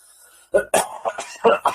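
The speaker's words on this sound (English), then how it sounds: "I have a serious cough" A person coughs in a rapid series of harsh, close bursts, about five or six in quick succession, loud against near silence.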